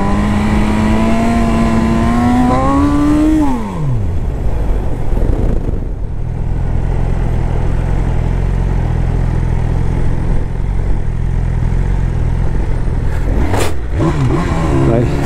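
A BMW S1000 motorcycle engine revs hard during a wheelie attempt on a track, a loud rising whine that drops off sharply, then a steady roaring drone and a final quick blip.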